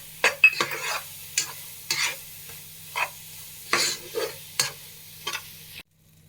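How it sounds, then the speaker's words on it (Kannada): Coconut burfi mixture of grated coconut and sugar stirred and fried in a pan until it thickens, with repeated close scraping strokes of a spatula over a soft sizzle, about a dozen strokes before it stops abruptly. "ಈ ಥರ ಗಟ್ಟಿ ಬರುವವರೆಗೂ ನೀವು ಚೆನ್ನಾಗಿ ಅದನ್ನ ಫ್ರೈ ಮಾಡ್ಕೋಬೇಕು"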